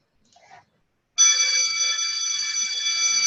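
Bell rung to mark the start of a station in a practice clinical medical exam: after a brief faint sound, a loud, steady electronic ring starts abruptly and holds without a break.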